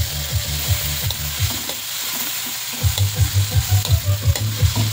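Ground meat sizzles and crackles in a hot pan while being stirred, a steady loud frying hiss with rhythmic scraping strokes of a utensil, no voices.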